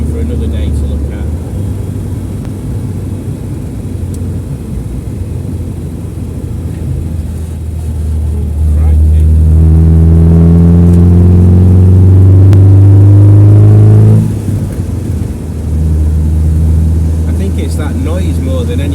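A 1979 MGB GT engine while driving, a steady cabin drone that rises into a loud, climbing rev for several seconds before easing back, heard from inside the car with someone talking over parts of it.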